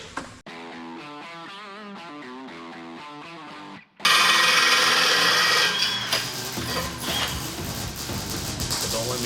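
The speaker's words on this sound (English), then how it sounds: "I'm welding." Welding on an off-road rollback truck build: after a few seconds of tonal ringing, a loud, harsh, continuous crackling hiss takes over and runs steadily to the end.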